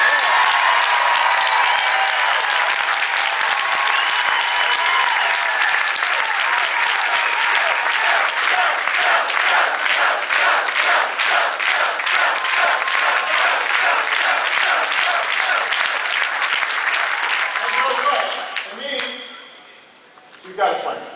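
A large friendly crowd at a Philadelphia political rally for Senate candidate Joe Sestak applauds loudly and steadily for nearly twenty seconds, the clapping swelling dense and sustained before fading out, with cheers mixed in.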